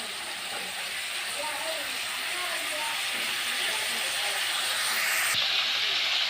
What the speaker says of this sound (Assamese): চিকেনখিনি এতিয়া অলপ সময় ভালকৈ ভাজি লওঁ।